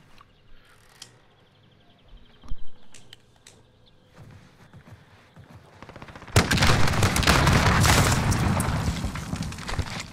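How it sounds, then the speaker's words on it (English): In a shooter game on the Fortune's Keep map, an explosive-tip sniper rifle fires: a few scattered sharp cracks and thuds over a quiet background, then a sudden loud, sustained barrage of blasts and gunfire. "It's an explosive tip, sniper rifle."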